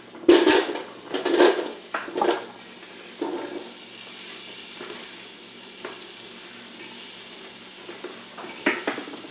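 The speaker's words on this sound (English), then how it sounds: "add all these vegetables in there now" Vegetables go into a hot pot for beef stew with clanks and scraping of utensils against metal up front, then a steady sizzle continues alone, with a few more clinks near the end.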